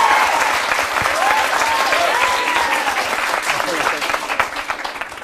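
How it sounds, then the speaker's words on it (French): A television studio audience applauds a guest, France de Carlo, with dense, sustained clapping that fades slightly toward the end while people talk over it. "Je vous demande d'applaudir Madame France de Carlo."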